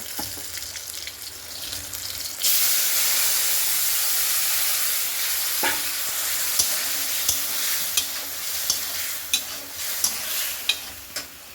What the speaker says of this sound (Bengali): এবার ভালো করে নেড়ে ফেলে এর মধ্যে তরকারিটা মিলিয়ে দেবো।